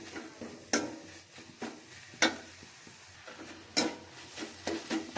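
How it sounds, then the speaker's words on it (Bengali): Tomato and carrot frying in a pan for noodles, a soft steady sizzle broken by several sharp scrapes and clinks of a spoon stirring against the pan, fairly quiet and close. "আমি এরকম করে টমেটোটা আর গাজরটা 2 মিনিট ভেজে নিলাম।"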